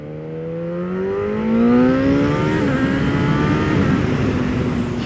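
A Triple vehicle accelerating hard from inside, its engine note climbing steadily in pitch with a brief dip as it shifts, then continuing to pull, loud and steady with road noise and no talking.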